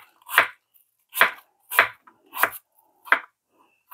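An apple being cut with an apple slicer, five sharp crunching chops spaced evenly about every 0.7 seconds, close and clear with silence between.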